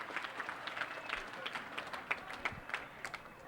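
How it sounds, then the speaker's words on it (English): Basketball crowd clapping along at a 1980 university men's game, a faint, fairly steady rhythmic clap heard at a distance, with light crowd noise. "Van Laar, the crowd starting to clap along."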